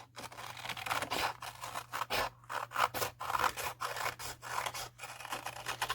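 Scissors snip steadily through paper, cutting out an egg shape in a series of close, rhythmic rasping strokes with brief pauses between cuts, over a low steady hum.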